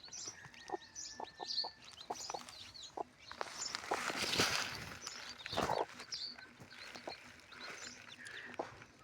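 A hen clucks softly while newly hatched chicks peep in quick, high chirps close by, with some rustling in the middle.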